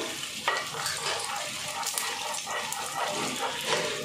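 Steady, crackling sizzle of chilies frying in hot oil, with light spatters and stirring scrapes, close and continuous throughout.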